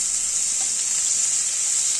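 Potato, carrot and green chilli frying in hot oil with ginger and onion for vegetarian chow mein, giving a steady, close, bright sizzle that holds evenly without a break.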